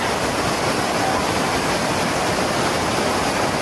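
Strong floodwater current rushing through low ground during severe flooding in the Philippines, a loud, steady, broadband roar that holds constant throughout with no talking.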